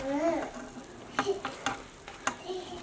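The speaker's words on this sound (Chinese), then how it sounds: "盖上盖子，再小火煎个4分钟左右，然后我们再来翻面。" A yam and corn breakfast pancake cooks in a pan over low heat while a spatula clicks and scrapes in a few sharp, close taps over a faint sizzle. A brief voice is heard at the start.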